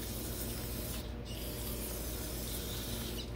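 Cleaner sprays onto the surfaces of a Case 311B tractor carburetor in a steady, close, hissing stream that runs for a few seconds, with only brief gaps.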